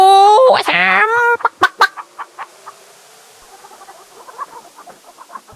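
Chickens cluck in a henhouse in King's Quest III Redux, opening with a loud squawking cackle followed by a string of sharp, decaying clucks and softer scattered pecking-like clicks.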